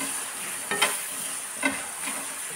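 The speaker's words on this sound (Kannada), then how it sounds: "ಇದನ್ನು ಸ್ವಲ್ಪ ಈಗ ಫ್ರೈ ಮಾಡ್ಕೊಳ್ಳೋಣ" Ingredients frying in coconut oil in a pan: a soft, steady sizzle close by, with a few light scraping stir strokes and no talking.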